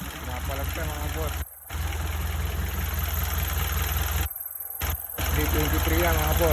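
A Nissan SD23 diesel engine with no blowby runs steadily at idle with a low, even drone and knocking rhythm, nearly constant throughout, with a few short dropouts and voices talking over it.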